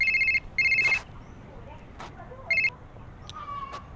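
A mobile phone ringtone plays in short, repeated electronic bursts, two quick rings followed by another after a pause, close and clear, with voices talking in between.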